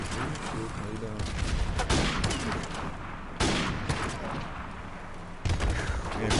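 Sniper rifle fired in a shooting video game: a few sharp, heavy gunshot blasts spaced seconds apart, each with a decaying tail, over a constant game background while a person talks between shots.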